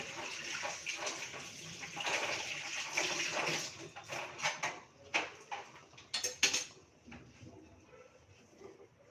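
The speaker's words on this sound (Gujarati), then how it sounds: "હવે હું 2 મિનિટ હાથને ધોઈ લઉં" Hands being washed under running tap water in a home kitchen, with splashing and rushing water for several seconds, then a few brief clatters and drips as the flow stops.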